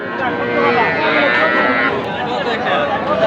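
Cattle, including young heifers and bull calves, low and moo amid a busy livestock market crowd in Ghoraghat, Dinajpur, with steady chatter and background noise throughout.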